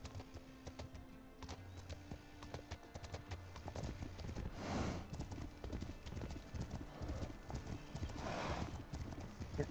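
Horse hooves clip-clop steadily at a walking pace in The Legend of Khiimori video game, with a couple of louder bursts and a faint whinny, quiet and unaccompanied by talk.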